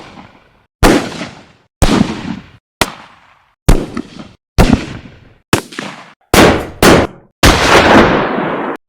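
A layered first-person-shooter gunshot effect built from two kick drums with assorted handguns, rifles and shotguns: about eight loud, close, punchy blasts, each cut off by silence, with the last one longer and denser.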